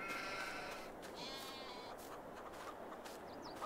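Milk sheep bleating faintly in the farming video game Farming Simulator 22, with soft calls buried in a steady wash of background game ambience.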